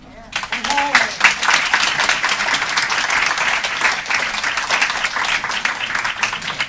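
Audience at a county commission meeting breaks into steady applause, dense clapping that runs evenly from start to finish after a brief spoken word at the outset.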